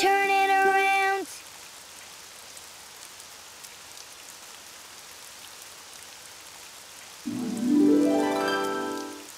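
Steady rain patters softly in the background, with brief tonal music at the start and again near the end.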